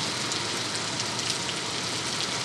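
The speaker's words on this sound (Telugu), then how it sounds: "మొత్తం చీకటి అయిపోయి వర్షం పడుతుంది." Afternoon rain pouring steadily under dark skies, a dense even hiss of falling drops, close and continuous with no voices.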